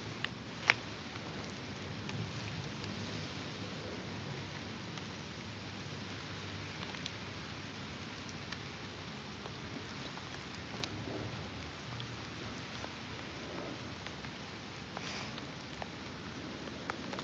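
Steady rain patters down over an outdoor fishing spot, a dense, even hiss of drops on surfaces with occasional louder taps, continuous and fairly close.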